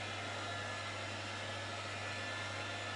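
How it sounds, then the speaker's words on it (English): A heat gun blows hot air over ruby chocolate, producing a steady, even fan whoosh with a constant low motor hum, unbroken for the whole stretch with no talking. "I use the light heat gun"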